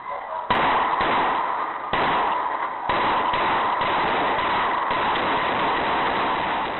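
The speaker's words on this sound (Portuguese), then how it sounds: "Novos disparos são feitos." Gunfire erupts during a shootout between police and an armed attacker. Several sharp, loud reports crack at irregular intervals over a constant harsh background, and the sound is band-limited and muffled.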